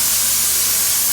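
Vegetables hit a pan of half-cooked shrimp for pad thai, and a loud, dense, continuous hiss of sizzling oil fills the brief moment with no voices.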